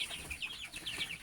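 Twenty-three-day-old farm chickens give quick, rhythmic high-pitched clucks and peeps in a short, lively burst, close by and with no voices.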